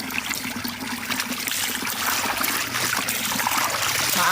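Water flows and trickles in a village setting, a continuous close babbling stream that grows slightly louder toward the end, with no voices.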